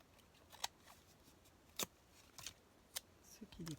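Scissors make a handful of faint, scattered snips while trimming material for a Christmas sled craft, a quiet and close sound with gaps between the cuts.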